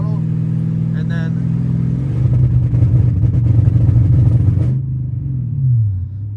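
A Lexus LS400 engine is revved at about 30% throttle close by, a deep rumble that rises, sputters and flutters as it breaks up near the top, then falls back to idle.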